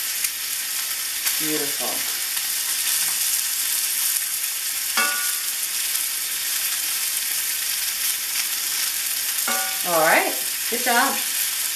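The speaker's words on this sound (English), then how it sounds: "You can use that black spoon to stir it around" Lemon juice and canola oil sizzle steadily in a hot pan while a black spoon stirs the sauce, with scattered scraping clinks and brief talk over the constant frying hiss.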